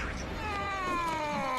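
Gargamel's cat meows during a boss fight in a PS3 video game, one drawn-out wailing meow, loud and close, over game background sound.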